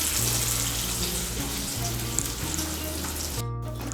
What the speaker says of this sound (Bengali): নুন আর হলুদের গুঁড়োটাকে মিশিয়ে নিয়ে আলুগুলোকেও লাল করে ভেজে নেব